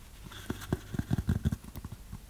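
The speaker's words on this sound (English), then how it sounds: "I'll be scratching on these sponges as well" Sponges are scratched close to the microphone in an ASMR session, giving a rapid run of soft, dull scrapes and taps in an uneven rhythm.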